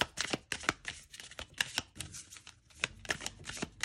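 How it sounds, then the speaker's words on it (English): Thick rune oracle cards being side shuffled by hand, a quick series of crisp, close riffling slaps and taps in an uneven rhythm, with no talking over them. "you can side shuffle really well with no harm done to the sides of the cards"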